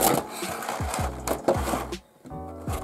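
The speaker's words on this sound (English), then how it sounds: "put my thumb between the gaps of parts of the box and then pull it out. They can make quite a bit of noise" Plastic model parts of a 1:500 scale Boeing 747-8F being pulled out of a box, heard as close scraping, creaking and rubbing of plastic and cardboard with several sharp knocks and clicks.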